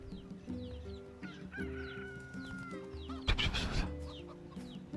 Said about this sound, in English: Hello, chicken. Bye, chicken.